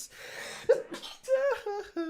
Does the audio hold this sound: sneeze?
yes